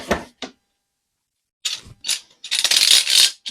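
A clamp is wound tight against a wooden block, with separate bursts of close ratcheting clicks and metallic rattles split by a long silent gap, building into a louder, denser run of clicks at the end.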